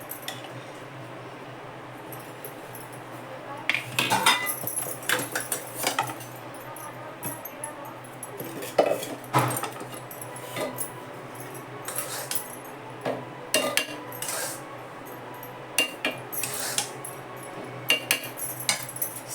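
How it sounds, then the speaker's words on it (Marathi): Irregular scraping and clinking as a spoon scoops sugar from a metal mixer jar, short bursts of tapping separated by quiet pauses. "सगळं मिक्सरमधून काढून घेते मी"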